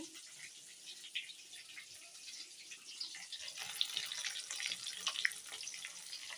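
Filled pieces of food frying in hot oil in a home kitchen, giving a steady broadband sizzle that swells and grows slightly louder in the second half, with a few sharp crackles and no voices.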